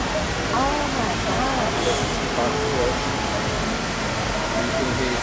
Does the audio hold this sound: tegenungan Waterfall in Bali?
yes